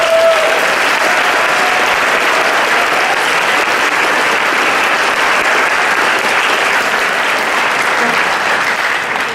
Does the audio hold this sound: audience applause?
yes